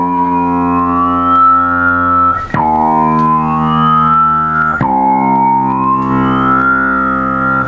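Bass guitar through an envelope filter with raised Q, three sustained notes each opening with a sharp pluck and then a vocal, wah-like resonant sweep, loud, buzzy and somewhat distorted, with no voices.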